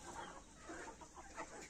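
A hen clucks softly and repeatedly in a farmyard, faint and somewhat distant amid low background noise.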